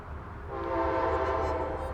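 A train passes nearby outdoors, its sustained horn swelling in after a quiet start and holding loud and steady over a low rumble of wheels.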